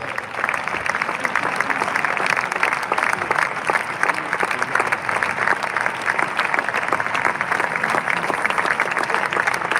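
A large crowd of more than two thousand people at a church worship gathering applauds and cheers loudly, a dense, steady wash of clapping and voices that holds for the whole stretch.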